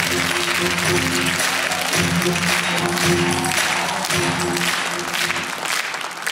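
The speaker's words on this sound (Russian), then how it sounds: "Итак, встретим аплодисментами." Loud audience applause welcoming a guest on a live improv comedy show, dense continuous clapping over a sustained musical hum, with a voice briefly audible.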